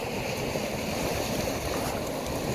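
Rough sea waves washing against a Greek shore, a loud continuous broadband roar and wash with no break, close and steady throughout.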